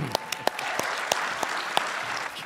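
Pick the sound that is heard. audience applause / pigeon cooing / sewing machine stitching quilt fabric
audience applause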